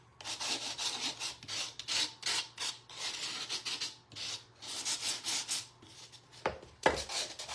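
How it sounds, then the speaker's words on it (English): Sandpaper rubs the edges of a wooden fabric box in repeated close, rhythmic back-and-forth strokes, with brief pauses between bursts and a sharper knock near the end. "we're sanding the edges"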